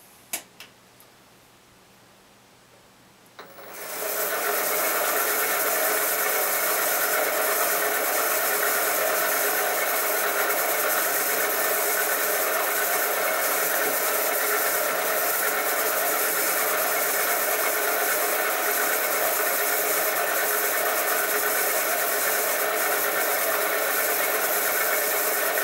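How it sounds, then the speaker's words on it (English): A Smithy Granite 1324 machine center-drills holes, starting up after a few quiet seconds into a loud, steady motor hum with a fine ticking rhythm that runs unchanged to the end, with no talking. "So that's why I'm center drilling each one."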